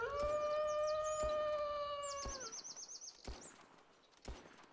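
Wolf howling in the Wild Wolf PC video game, a long sustained howl that rises then breaks into a wavering upper wail, followed by fainter scattered sounds and soft thumps.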